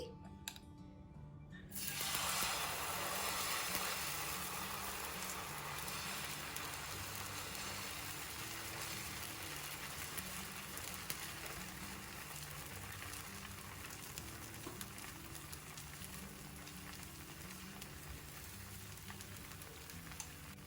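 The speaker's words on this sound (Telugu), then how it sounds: "మీడియం ఫ్లేమ్లో పెట్టుకుని దోశని వేగనివ్వండి." Semiya tomato dosa frying on a hot pan over medium flame, a steady close sizzle that starts abruptly and continues evenly throughout.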